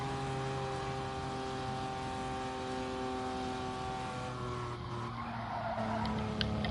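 A race car in Gran Turismo Sport runs at speed in an online Nations Cup race, with a steady, loud engine drone and skidding tires. Near the end the car slides off into gravel with a rougher scraping rush.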